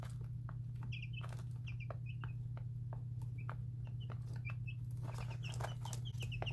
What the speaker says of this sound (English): And all of them are lovely little chickens.